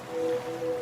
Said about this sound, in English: now you're drifting asleep to the scent and sound of waves